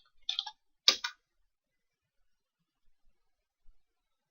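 A computer keyboard being tapped to type a short web address, heard as a few quiet, sharp keystroke clicks in two small clusters near the start, followed by near silence with faint ticks.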